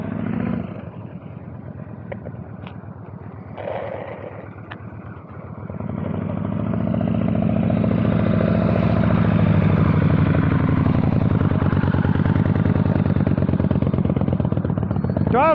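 A motorcycle engine idles and then revs up and holds a higher, steady drone during slow-speed riding practice.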